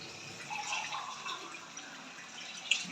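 Water is poured into a cooking pot of fish curry with potatoes, a faint, short trickling and splashing with a few drips close by and no talk.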